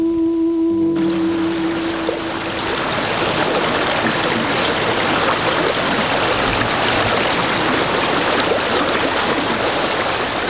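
The Abe River rushes past beside an old two-storey martial arts hall, a dense, steady roar of turbulent water that fills the whole stretch, loud and continuous, with a brief tonal hum fading out at the start.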